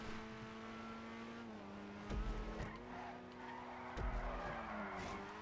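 A Grotti Itali RSX in a GTA racing game skids under braking, its tyres squealing over a steady engine drone, with a couple of brief thumps along the way.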